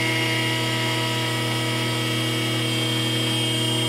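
A hydraulic motor runs steadily in a lab setup as system pressure is raised through a throttle valve, giving a continuous loud mechanical hum with strong tonal whine, unchanging in pitch throughout.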